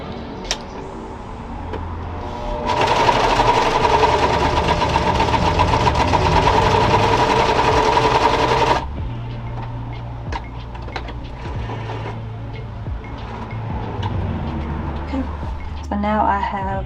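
A sewing machine stitches a gathering line beside a first one on a McCall's 8502 side-ruched skirt, a steady mechanical whir running for several seconds mid-clip between quieter handling noises and low hum.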